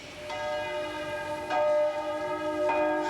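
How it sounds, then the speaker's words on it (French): Church bells ring out in a stage play about the French Revolution, with rich, sustained tones, fresh strikes landing every second or so and lingering between them. "Les cloches sonnent."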